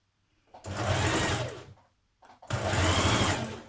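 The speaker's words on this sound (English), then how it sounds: "you're going to stitch down your side vents and along the bottom of your hem" A sewing machine stitches down a top's side vents and hem in two steady, close bursts of whirring motor and needle clatter, each about a second long with a brief pause between, no talking.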